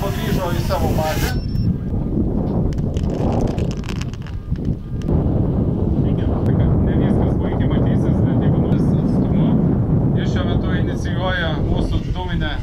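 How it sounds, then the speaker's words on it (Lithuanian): A drone, one of the Lithuanian-made unmanned aircraft shown at a drone day event, flies back to its base with a steady, continuous whirring drone blended with outdoor wind noise throughout, and voices occasionally audible in the background. "Dronas atliko savo darbą, grįžo į savo bazę."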